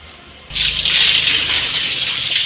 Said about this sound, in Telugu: నీళ్ళైతే అలా పోసేస్తుంది మా అక్క